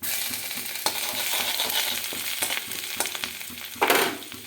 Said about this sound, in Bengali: ফোড়নটা ভালো করে ভেজে নেব